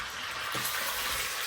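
Food sizzles and crackles in a pot at a home kitchen stove as it is stirred, a soft continuous frying hiss with a light scrape partway through.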